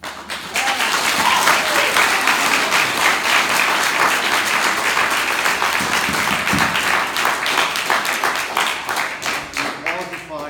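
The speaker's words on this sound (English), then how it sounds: "Applause is fine, but it's just taking up time." Audience applauding at a public comment meeting, a steady, dense wash of clapping from many hands that fills the room for about ten seconds without a break.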